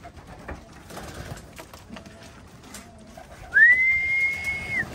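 A stray pigeon lands where racing pigeons are kept and calls, giving a single clear, drawn-out whistling coo close to the microphone in the final second and a half, after a stretch of quiet background rustling.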